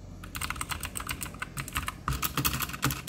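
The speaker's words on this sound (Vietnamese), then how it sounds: "Đây là tiếng bàn phím cũ trước của mình này" Someone types briskly on an old mechanical keyboard, a close, steady clatter of keystrokes with a few heavier presses, alone with no voices.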